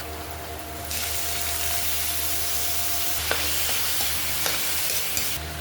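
Pork innards frying with garlic and onion in a hot pan, a loud steady sizzle that starts abruptly and holds throughout, with a few stirring clanks, close up and without speech.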